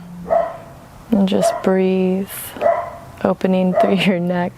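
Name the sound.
dog barking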